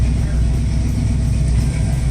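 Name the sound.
car engine idling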